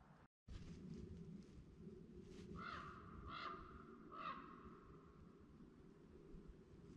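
A raven calls in the woods during a rifle-season hunt in Pennsylvania, three hoarse croaks at a moderate distance over a steady outdoor hiss.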